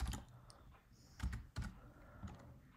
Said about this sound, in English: I will type it here.